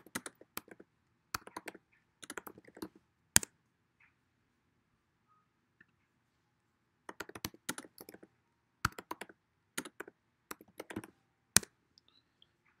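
Bursts of crisp keystrokes on a computer keyboard as a command is typed, two clusters of rapid clicks separated by a pause of near silence, close and fairly quiet.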